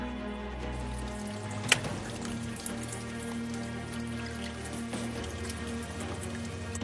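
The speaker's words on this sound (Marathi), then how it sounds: "डोंगरातल्या मध्यावरचा हा झरा जणू आमचीच वाट पाहत होता." Water from a mountainside spring in the Sahyadri Tiger Reserve trickles and drips steadily at close range, a soft patter with a couple of sharper splashes and a faint tonal hum underneath.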